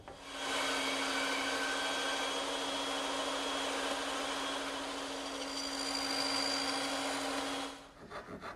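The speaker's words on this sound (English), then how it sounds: "And I'll make those cuts on my bandsaw." A bandsaw slices an angled tenon shoulder in a wooden workpiece with a steady, loud whine and rasp for about seven seconds, then stops abruptly and trails off into faint handling knocks.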